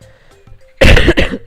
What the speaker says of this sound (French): j'ai toussé pendant tout le truc